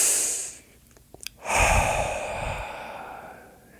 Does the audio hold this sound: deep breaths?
yes